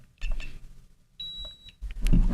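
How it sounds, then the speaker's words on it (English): A consumer drone being powered off gives a single short electronic beep, clear and close, amid light handling noise and a few quiet clicks. "One beep to turn it off."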